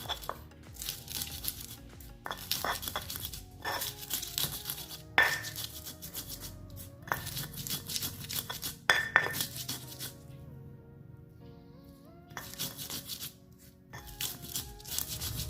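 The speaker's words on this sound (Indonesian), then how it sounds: "Pertama kita akan ulek terlebih dahulu cabai rawit." Bird's eye chilies crushed coarsely with a mortar and pestle for Acehnese sambal, a series of clinking, scraping stone strikes in irregular bursts with pauses, fairly quiet and close.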